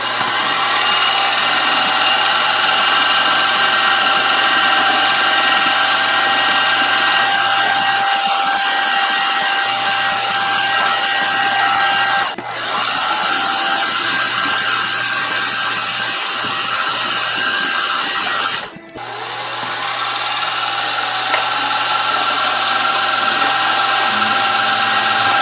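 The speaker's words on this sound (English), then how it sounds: "we'll follow up with a number 20 drill bit for the center and number 44 for each of the smaller holes for the studs" Power drilling of holes in a wooden part for a model grasshopper steam engine, using number 20 and number 44 bits; a steady, close, continuous machine whine runs throughout, broken by two brief sharp pauses, with no talking.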